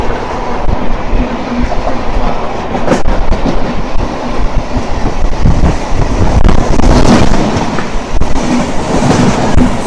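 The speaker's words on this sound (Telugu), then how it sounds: "సో ఈ పక్కన చూసుకుంటే ఏదో ట్రైన్ వస్తుంది" Train passing by on the Renigunta–Nellore line, a steady loud rumble of wheels and carriages with rhythmic clatter and wind noise throughout, no talk.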